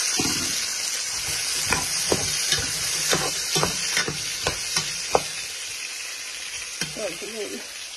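Garlic, ginger, bay leaf, onion, star anise and cardamom frying in hot oil, a steady loud sizzle with repeated scraping stirs and clinks close by, then a faint voice near the end.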